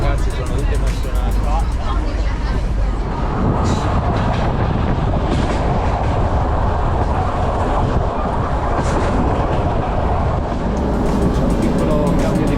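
A passenger train rolls across Hungary with a constant loud rumble and rattle of wheels and carriage, while a murmur of passenger voices runs underneath throughout.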